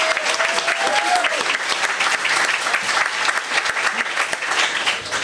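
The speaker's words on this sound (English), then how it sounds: "So could we give Jennifer a round warm of applause?" An audience gives a warm round of applause at a city history talk, steady, dense clapping throughout with a brief whistle-like tone early on.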